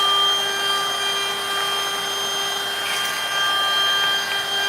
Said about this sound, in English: So Mullet Tools, they have a dust collection system that we actually have